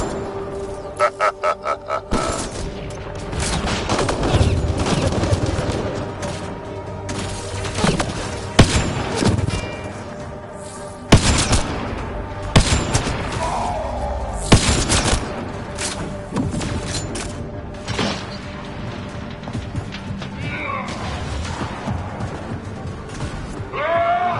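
Gunfire in the video game Mass Effect: Andromeda comes as repeated bursts and single sharp shots over a rumbling battle bed, with loud cracks scattered through the clip and brief voices.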